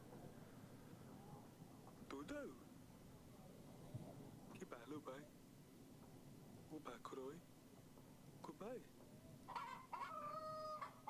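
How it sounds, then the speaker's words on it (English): Several short, sharp squawks and clucks from a chicken in the video game Yes, Your Grace burst out at intervals over a low background hum, with a final louder flurry near the end. "my chicken is gonna squawk if people are lying"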